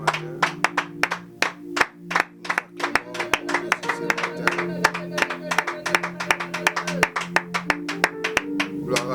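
Church congregation clapping in unison to acclaim Jesus at a morning service, with sharp, rapid, rhythmic claps that build over a steady sustained musical tone, close and lively.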